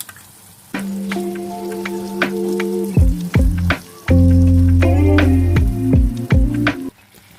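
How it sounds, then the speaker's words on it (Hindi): Chicken with tomato puree frying in a pan, a steady close sizzle with bursts of crackling and stirring scrapes, loud and continuous, no talking. "इसको डाल के अच्छी तरह मिक्स करके और थोड़ी देर के लिए चिकन गलने तक पकाएंगे।"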